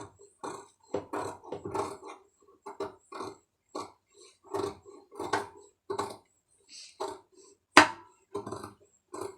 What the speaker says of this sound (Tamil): இப்போ இதை வந்து லைட்டாக அப்படியே கட் பண்ணிக்கிறங்க